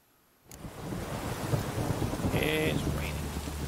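Steady rain falls in The Witcher 3 game world, fading in after silence into a dense close wash with low rumbling beneath, a faint tonal game sound rising partway through.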